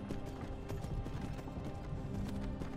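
Horse hooves clip-clopping in the video game Skyrim: a steady, brisk clatter of hoofbeats over a constant rumbling background, with no talk.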